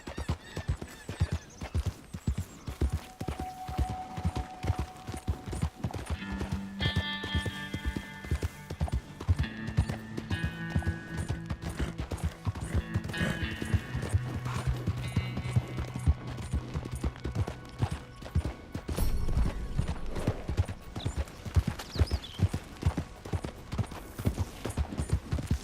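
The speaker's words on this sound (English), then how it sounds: "I just got this horse." Horse hooves clip-clop steadily and rapidly in the Red Dead Redemption 2 video game, a continuous galloping rhythm with music and occasional whinnies layered over it.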